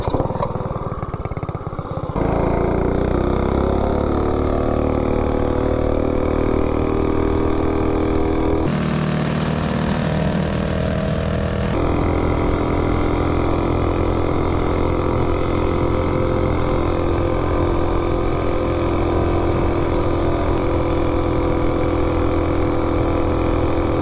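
A Coleman B200 mini bike engine roars loudly and continuously through a top speed run, its pitch climbing steadily as it revs up, with a brief rougher shift in tone partway through, and no talking.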